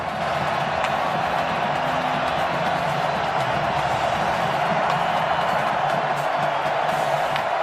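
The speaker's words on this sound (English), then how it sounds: "Now the crowd's going to get into it at Razorback Stadium right here." Broad roar of a packed crowd at Razorback Stadium during a 2016 college football game, Florida at Arkansas, a steady dense wash of cheering and shouting with scattered whoops, loud and continuous throughout.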